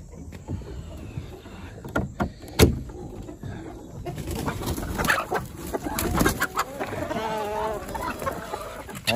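A Muscovy duck on a homestead makes soft, breathy hisses and low calls in short bursts, close by, with bits of human talk and background noise.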